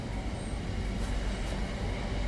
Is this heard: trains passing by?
yes